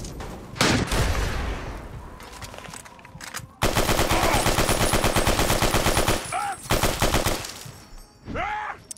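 Weapon fire in the video game Fallout: loud, close bursts of rapid automatic gunfire with a dense rattling rhythm, broken by short pauses and a couple of sharper single shots.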